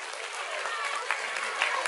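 A school audience at a girls' high school function breaks into dense, sustained applause, many hands clapping together in a bright, even roar that holds steady throughout without any speech.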